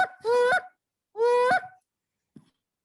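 A human voice imitates a goose call with two loud, nasal honks about a second apart, close and clear. A brief soft thump follows in an otherwise quiet room.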